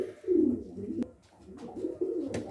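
Soft throaty cooing of pigeons close by in a loft, several overlapping coos rising and falling in a quiet enclosed space.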